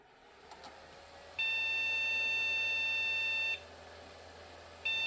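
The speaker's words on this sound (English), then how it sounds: "Okay, too many beeps." A mini Pentium PC gives error beeps at power-on after fresh memory is fitted: a faint tick, then a long steady electronic tone of about two seconds, and a second tone starting at the end.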